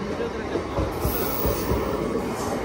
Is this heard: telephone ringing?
no